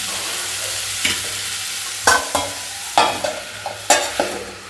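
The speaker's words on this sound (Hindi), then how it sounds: "जैसे इधर मैंने मम्मी पापा के लिए कोहड़ा छाँका हुआ है" Pumpkin is stir-fried and tempered in a pan over a steady sizzle, with four or five sharp spatula scrapes and knocks against the pan at spaced intervals, close by.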